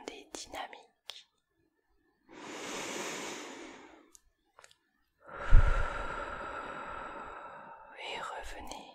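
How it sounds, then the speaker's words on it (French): Deep breaths during a whispered French ASMR relaxation session, each long soft inhale and exhale rising and fading several times, close to the ear, with quiet whispering between. "Prenez une bonne respiration profonde et dynamique."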